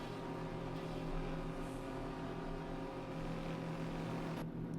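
A truck engine in American Truck Simulator drones steadily inside a tunnel, a dense reverberant rumble holding constant, then the echo drops away abruptly near the end.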